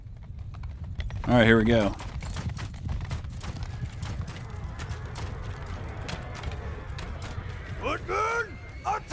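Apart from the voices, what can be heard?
horse archers galloping in video game Mount & Blade II: Bannerlord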